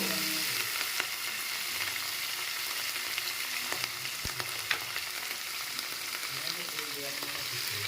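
Onion sprouts fry in a pan with a continuous, even hiss of oil, and a few occasional soft stirring knocks rise above it; the sound is steady and moderately quiet, with no talking.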